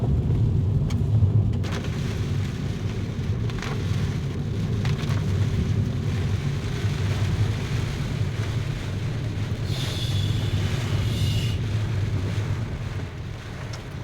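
Steady rain pouring on roads in Goa, a dense continuous hiss with low wind rumble throughout, no voices.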